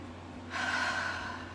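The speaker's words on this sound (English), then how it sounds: "Breathing and releasing." A single deep breath drawn in during a guided tapping exercise, a soft, close breathy rush rising abruptly after a quiet moment and slowly fading away, with no talk.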